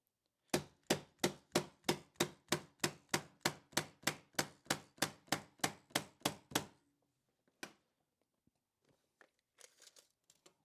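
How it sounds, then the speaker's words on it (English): Electric staple gun fastening a stair runner to wooden steps, about eighteen sharp evenly spaced snaps fired in quick succession up close, then scattered faint handling noises. "now we'll use the electric gun."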